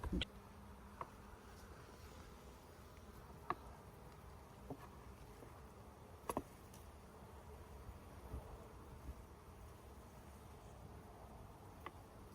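Honeybees buzz faintly and steadily around an open hive during an inspection, with a few soft ticks and knocks scattered through.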